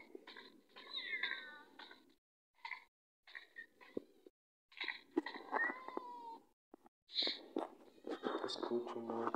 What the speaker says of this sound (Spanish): Escucho maullido.